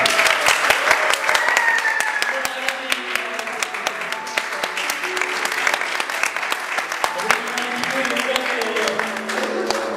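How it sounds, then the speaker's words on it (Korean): A church congregation claps to welcome returning guests, a sustained, moderately loud patter with a few voices and soft tones mixed underneath. "박수로 환영하겠습니다"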